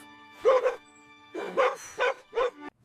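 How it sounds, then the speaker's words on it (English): A puppy named Lucky barking, four short high yips in quick succession, loud and close with brief pauses between them, no other sounds around. "Woof!"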